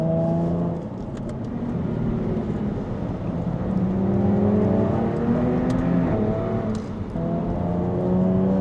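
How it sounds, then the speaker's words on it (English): Jaguar F-Type S in race mode, its exhaust note rising and falling steadily through gear changes, a loud continuous engine drone close by with no talk. "I'm in race mode at the moment, and the exhaust note and the throttle response is actually improved a lot"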